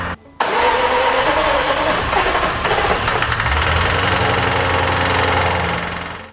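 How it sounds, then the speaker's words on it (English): The flood-damaged engine of a Jaguar F-Type SVR cranks and catches, running loud and rough with an uneven, knocking idle that stays steady and close for several seconds before fading slightly. "I put the spark plugs back in, and I tried to start it again."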